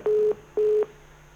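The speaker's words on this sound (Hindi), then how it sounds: "मैं फोन कनेक्ट करवाता हूँ।" A telephone line tone sounds while a call is being connected during a televised Hindi political discussion: two steady, moderately loud beeps, each about a quarter second, separated by a short gap, with no talking.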